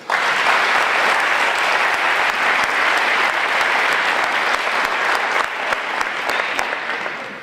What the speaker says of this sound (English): Please give a round of applause to our next Mustang legend from the class of 1973, Adolfo E. Gutierrez.